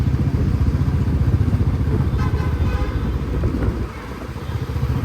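A Bullet motorcycle engine thumps steadily at close range, a low continuous rumble that dips slightly near the end.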